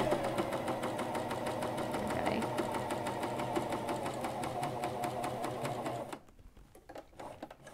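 A Janome CoverPro 1000CPX coverstitch machine runs steadily for about six seconds, with a rapid, even mechanical chatter of needle strokes, then stops and leaves a few faint handling clicks.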